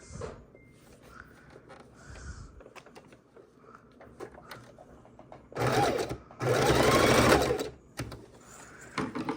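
A sewing machine stitches up the sides of a lace-trimmed Christmas mitten, starting with small clicks and handling noises, then running in two close, loud bursts of rapid stitching.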